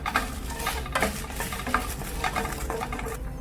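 Shallots and green chillies fry in a pan, a steady close sizzle broken by scraping stirs and soft clinks of a utensil against the pan.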